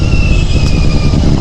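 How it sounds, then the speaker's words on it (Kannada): A Benelli TNT 600 four-cylinder motorcycle exhaust, close and loud, holds a steady, unbroken engine drone with a faint whine running through it for the whole short stretch. "ಸೌಂಡ್ ಮಾತ್ರ ಸೆಕ್ಸಿ ಇದೆ. ಬೆನೆಲಿ especially made for only sound"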